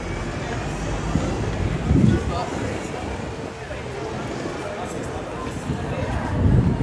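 A rumbling London Underground train near Hammersmith rolls along with low, rushing noise and clattering swells, muffled and continuous, as a voice talks briefly over it.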